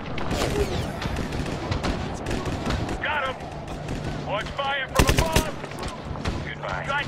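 Gunfire crackles in the Medal of Honor (2010) video game, with dense bursts of automatic rifle and machine-gun shots, loud and continuous, while voices shout over the firefight.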